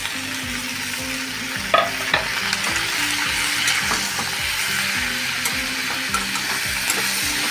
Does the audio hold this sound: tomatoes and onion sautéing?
yes